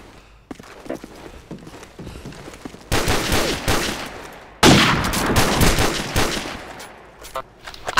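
Gunfire from a Dragunov sniper rifle in Call of Duty 4, a hardcore sniper 1v1 match: loud sharp blasts and dense bursts of shots, the clip growing noisier midway, with some talk in the background.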